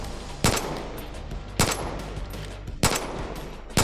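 Four short bursts of gunfire from Far Cry 5 on Android, each a loud sharp crack spaced roughly a second apart over a low, steady background hum.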